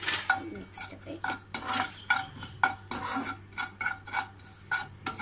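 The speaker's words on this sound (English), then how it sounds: "Now mix it a bit." A spatula stirs neem flowers frying in a pan, making a rapid, rhythmic run of metallic scrapes and clinks against the pan, close and fairly quiet, with a faint sizzle underneath and no voices.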